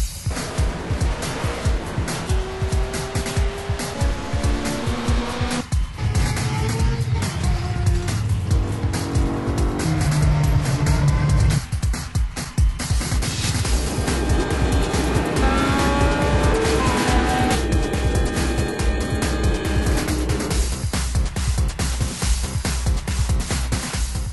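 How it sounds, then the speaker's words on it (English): Race cars in a sim racing game rev and scream past in a continuous stream of engine roar, with gear changes, rising and falling pitch and occasional tire squeal throughout, loud and close. "Gentlemen, start your engine."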